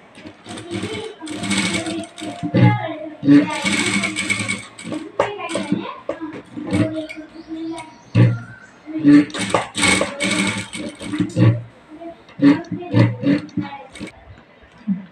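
A sewing machine stitching a sleeve runs in short bursts of rapid needle clatter, starting and stopping repeatedly up close, with a voice talking between the runs.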